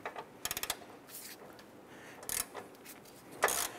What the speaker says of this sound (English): You can use your ratchet for a little bit